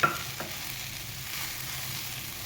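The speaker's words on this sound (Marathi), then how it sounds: "हे आपण साखर वेगवेगळे करत आपण परतून घ्यायचं आहे" Modak filling with sugar stir-roasted in a pan over low heat gives a steady soft sizzle, with a couple of faint spoon scrapes near the start. No voices are present.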